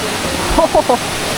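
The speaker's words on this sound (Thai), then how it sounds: "เฮ้ยผมไม่เคยเจอน้ำตกในถ้ำเฮ้ย มันสวยมาก" A waterfall inside a cave in Slovenia roars as a loud, constant wash of rushing water, with a voice briefly speaking over it midway.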